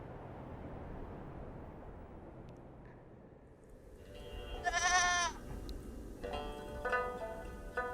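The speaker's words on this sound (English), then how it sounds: "At dawn, Li Dehua opens his sheep pen to begin a day of shepherding." Two sheep bleats, one wavering and one rougher, rise over a steady low outdoor rumble near Dunhuang after several seconds of just background noise.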